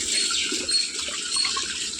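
Water pours steadily from a tap or hose over a Labrador puppy on a hot day, a continuous close splashing rush with no voices.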